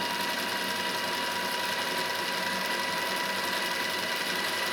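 A 1937 Paillard Bolex G916 film projector runs up to speed with a steady mechanical whirring and clatter with a fine rapid flutter, continuous and fairly loud with no voices.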